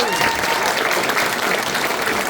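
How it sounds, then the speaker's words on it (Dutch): Audience applause for the sound crew at the Sound of Herkenbosch 2025 show, a steady dense clapping from a crowd that fills the whole stretch at constant loudness. "ik wil toch een hartelijk applaus voor de heren van het geluid"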